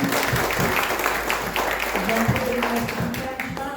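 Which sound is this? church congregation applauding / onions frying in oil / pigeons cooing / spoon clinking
church congregation applauding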